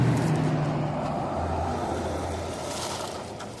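A small electric motor of a K'nex RC Baja truck whirring steadily near the mic, a low droning buzz that fades slightly toward the end.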